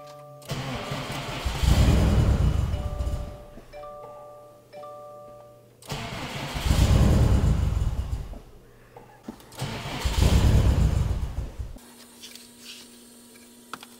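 A Subaru STI back together after maintenance, including throttle body reprogramming, is cranked and started three times, each catch rising into a loud, close engine roar that settles to idle before cutting off.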